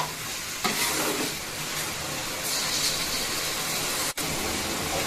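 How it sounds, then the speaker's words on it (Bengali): Steady sizzling of bottle gourd frying with spices in a hot pan, with occasional scraping as it is stirred, loud and close, no voices. "সহজে কষিয়ে ভাজা ভাজা করে নেব"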